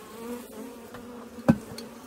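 A dense swarm of honeybees buzzes steadily around an open hive as a beekeeper in bee gloves works it, with a single sharp knock partway through and no talking.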